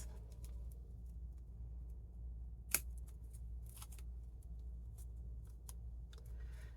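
Scissors snip through a piece being cut out, producing a few faint, scattered snips and one sharper click over a steady low hum.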